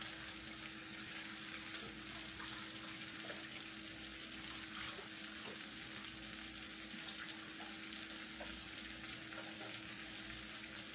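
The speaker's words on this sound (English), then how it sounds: "Add some beef broth. I'm just pouring it in." Beef broth being poured into a cooking pot, a steady, unbroken liquid rush with a faint sizzling edge that holds an even level throughout, with no talking.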